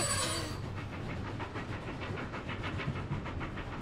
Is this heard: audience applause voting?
no